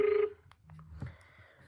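Phone call being placed during a prank call: a brief loud dialing tone at the start, then quieter line noise and a short ring-like tone, with faint background sounds.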